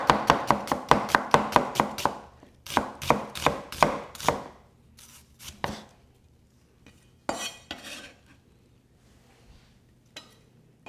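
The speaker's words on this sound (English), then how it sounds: "A little bit of onion. Again, finely sliced." A knife slices onion finely on a chopping board, a fast run of crisp regular chops followed by slower, sparser cuts and quieter pauses, close and alone.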